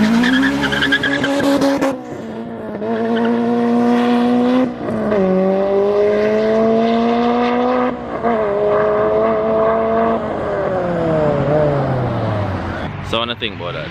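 A K20-powered Honda Civic EP3 race car screams loudly on a track, its engine rising in long sustained pulls broken by quick gear-shift dips, with tires squealing through the run.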